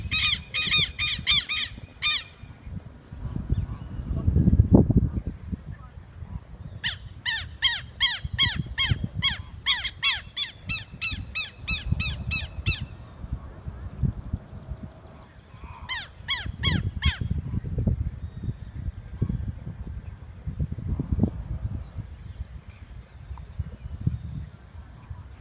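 Geese in a park honk and squawk in several loud bursts of rapid calls, separated by stretches of low rustling and footsteps nearby.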